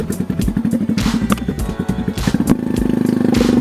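Motorcycle ridden on a rough forest trail, its engine chugging close in rapid uneven pulses with thumps and clatter from the bumps, settling into a steadier putter near the end.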